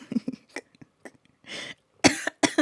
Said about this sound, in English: And look at me coughing.